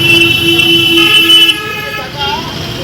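Horns honk in a traffic jam at a railway level crossing with the gate down while a train passes, one horn giving several sharp repeated toots over a steady rumble of idling vehicles and road noise.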